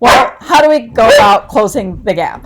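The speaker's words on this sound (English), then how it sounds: "Sorry about my dog in the background." A pet dog barks and yips in short bursts somewhere in the room behind a lecturer's continuous speech, partly masked by the talking.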